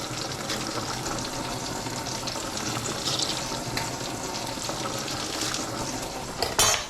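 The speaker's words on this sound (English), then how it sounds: "At this point I can add the parsnips to the oil." Parsnips frying in hot oil in a pan, a continuous crackling sizzle at moderate level, ending with a short clatter of kitchenware.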